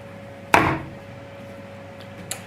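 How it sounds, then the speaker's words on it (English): A single sharp cut into a bar of homemade soap, a loud thud-like chop followed by a fainter tap a moment later, over a steady low hum. "let's cut this into some slices. Okay, let's cut the first bar."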